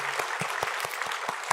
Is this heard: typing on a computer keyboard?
no